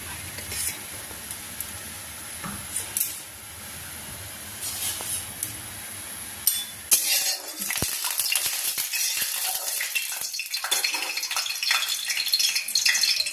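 Bay leaf, dried chili, mustard seed and ground mustard dropped into hot oil, setting off a loud, dense sizzle and crackle that swells about halfway through and holds steady to the end.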